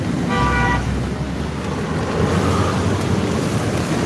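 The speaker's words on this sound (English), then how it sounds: "Got a beeper." On a sea fishing kayak, a fishing bite alarm gives a short, bright electronic beeping burst that is partly masked by constant surf and wind noise.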